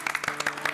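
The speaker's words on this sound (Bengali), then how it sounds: "তালিয়া!" Short burst of applause from a small group, quick uneven claps repeating at a brisk rhythm, fairly close and clear for under a second.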